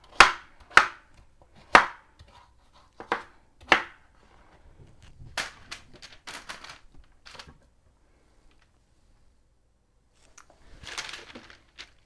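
A knife chops through acorn squash for a sheet-pan meal of maple-glazed chicken with vegetables: five sharp, close chops in an uneven rhythm, then softer clatter and rustling, with no talking.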